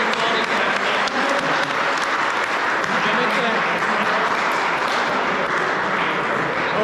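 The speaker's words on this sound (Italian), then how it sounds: "Quindi veramente fatevi tutti quanti un applauso per questo" Audience applause at a youth tournament awards ceremony, with sustained, dense clapping from a sizable crowd lasting the whole stretch at steady loudness.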